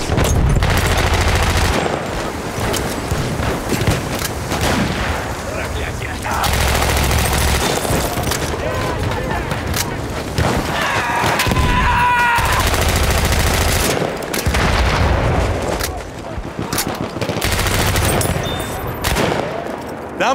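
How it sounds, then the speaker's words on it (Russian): Grenade thrown amid heavy gunfire in a World War I shooter game on a Domination match, dense rapid bursts of rifle and machine-gun fire with booming blasts, loud and close, a voice shouting over the battle. "Держите гранату, сволочи!"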